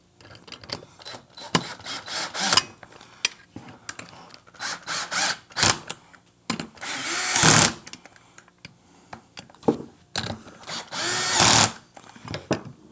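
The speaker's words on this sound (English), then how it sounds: "And take my drill. That's set on a low torque." A cordless drill set on low torque whirring in repeated short bursts while reassembling a carburetor, with ratcheting clutch clicks and pauses between runs, close up and fairly loud.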